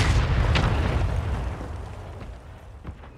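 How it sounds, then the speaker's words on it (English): A mortar strike in Call of Duty Warzone 3 lands with a loud, close explosive boom, and its rumbling blast then fades over the next few seconds. A faint smaller crack follows near the end. "Mortar strike inbound now"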